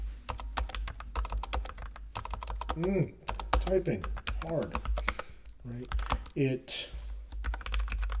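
Rapid typing on a computer keyboard during a coding session, a close, crisp run of clicking keystrokes with brief pauses while someone talks over it.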